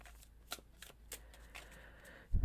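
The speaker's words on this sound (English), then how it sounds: "Maybe I'll just shuffle one more time and then jump right in." Quick riffle shuffling of a tarot card deck, several short crisp bursts of flicking cards close by, ending in a soft thump.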